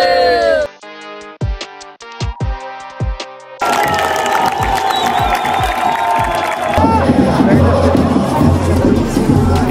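Huge crowd of football supporters roaring and chanting in a stadium at a Copa do Brasil match, Operário against Grêmio, loud and dense; brief clipped musical or horn-like bursts open the moment before the sustained cheering takes over.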